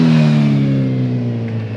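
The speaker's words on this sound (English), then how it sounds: "The bike sounds good, man. Not too loud, nice and deep, nothing crazy." A 2022 Suzuki Hayabusa motorcycle with an M4 exhaust idles loud and close in a parking lot, a deep, steady engine drone whose pitch sinks slightly as it settles.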